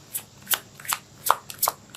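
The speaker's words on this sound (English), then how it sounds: "let's pull out a physical card for you here." Tarot cards being shuffled by hand, five or six quick riffled bursts in a steady rhythm, close and fairly quiet with no talking.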